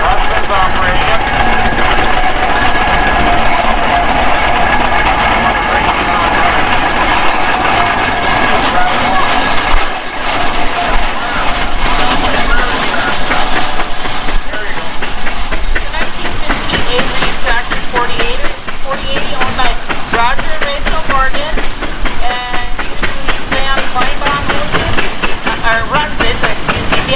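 An antique tractor owned by Rachel Morgan, driven by her husband at the Western Minnesota Steam Thresher's Reunion in Rollag, runs with a loud, continuous engine rumble and rhythmic mechanical clatter while people talk over it throughout.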